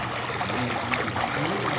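Water from an Intex pool pump flows steadily, a continuous close trickling, splashing stream with no pauses and no voices over it.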